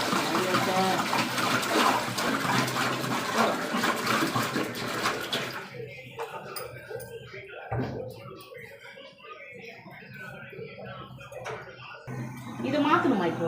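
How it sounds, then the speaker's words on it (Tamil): Water poured out in a home kitchen while cooking, a steady splashing wash at first that drops away after several seconds into quieter intermittent trickles and clatter, with voices talking over it. "தண்ணி ஊற்றிட்டா"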